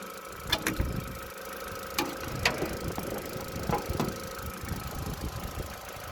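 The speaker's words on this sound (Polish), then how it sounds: "Motorek chodzi jak ta lala." An Opel Astra J 1.4 engine idles quietly in the background, a low steady hum broken by scattered faint clicks and light taps nearby.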